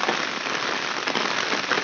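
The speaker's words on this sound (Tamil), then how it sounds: "மழை சரியான மழை பெஞ்சிட்ருக்கு." Heavy rain pours down in Chennai during Cyclone Mandous, a dense, steady hiss of water hitting the ground and surfaces nearby, with no voices.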